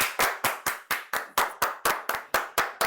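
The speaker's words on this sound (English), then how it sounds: "Everybody clap your hands." Hands clap in a steady even beat, about four claps a second, sharp and close, as people keep time to a line-dance song.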